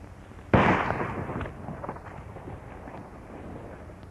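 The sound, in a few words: gunshots in a western movie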